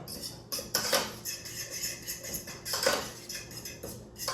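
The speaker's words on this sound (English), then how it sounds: "So now what you want to do with that is just mix it all up." Vegan taco meat being stirred together with chili powder, with repeated scraping and clinking of a utensil against a dish in close, irregular bursts.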